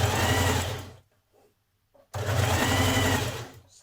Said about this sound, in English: then you can stitch your hem on your flounce before you add it to your skirt